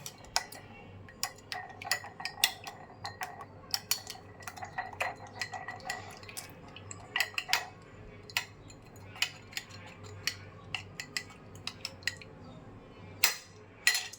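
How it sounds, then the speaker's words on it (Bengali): An egg being beaten in a bowl for kalojam sweets: rapid irregular clinking taps of a utensil against the bowl, fairly faint, running steadily with no talk. "এখন আমি ডিমটাকে ফেটিয়ে নিলাম।"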